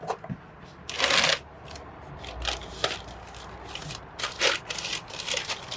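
Unboxing a package of Swift lowering springs for a car, heard as close rustling, scraping and handling of cardboard and packing material, with irregular bursts and a louder flurry early on.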